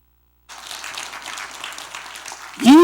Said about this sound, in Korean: 타이밍이 박수칠 타이밍